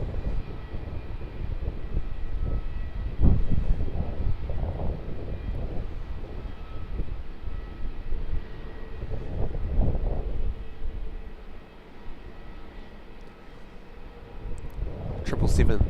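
A Singapore Airlines Boeing 777-300ER departing runway 27 at Melbourne Airport gives a steady, moderately distant engine roar with low rumbling swells that ease off briefly, then build again at the end.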